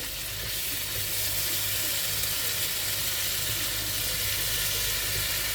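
Meat for a tagine sears in a hot pan, a loud, dense, continuous sizzle that holds steady throughout with no talk over it.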